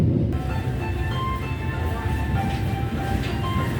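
A long-distance train pulls into Pasar Senen station in Jakarta, a steady close rumble of wheels and carriages with thin, drawn-out metallic squeals running over it throughout.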